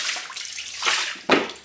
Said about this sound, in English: I always like to dump a little bit of the water out